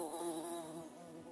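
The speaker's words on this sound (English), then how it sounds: "bees also have a language in which they communicate using hums and dances in the air" Bees hum in a steady, close buzz with a wavering pitch. The drone holds evenly for just over a second, with no other sounds around it.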